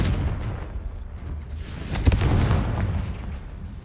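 The Confringo explosion spell cast in the Hogwarts Legacy video game: a sharp burst midway flares into a rumbling blast that swells and slowly fades over a low background roar.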